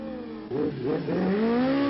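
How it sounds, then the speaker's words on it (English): A nitrous-injected Suzuki GSX 1100R drag bike at a 1989 street bike drag meet, its engine note climbing steadily in pitch as it accelerates hard, loud and sustained with a brief dip midway. "This is Andy Seagus and his nitrous injected GSX 1100R."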